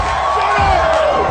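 A crowd cheering and whooping, loud and close, a dense continuous roar with a few rising shouts.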